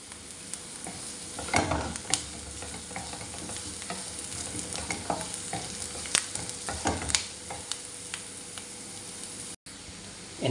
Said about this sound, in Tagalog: Iligay na po natin yung sibuyas. Sunod na po natin yung bawang.